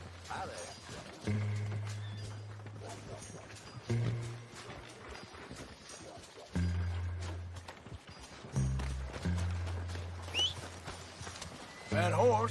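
Horse in Red Dead Redemption 2 gallops with steady clip-clop hooves and a loud whinny near the end, backed by low roaring game ambience and a droning score, with someone talking briefly over it.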